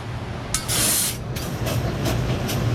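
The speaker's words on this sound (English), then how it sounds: "spray the filter and the drain plug area down to get all the residue off." Brake cleaner hisses from an aerosol can onto the oil filter and drain plug area of a Honda S2000 during an oil change, in one long loud burst followed by several shorter spurts over a steady background hum.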